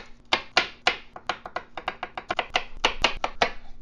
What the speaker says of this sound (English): Peel and roughly chop two cloves of garlic.